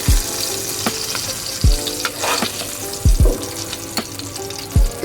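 Koi fish frying in hot oil in a pan, a continuous crackling sizzle with repeated louder bubbling pops and occasional low clunks, close and busy with no talking.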